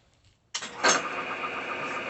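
A used Bridgeport milling machine's spindle starts up abruptly and runs forward, settling into a steady mechanical whir close by.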